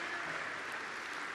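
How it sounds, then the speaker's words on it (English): A crowd at a Donald Trump speech breaking into applause, a faint, distant, continuous patter of clapping that stays even for its short length without voices. "it gets a round of applause from the audience"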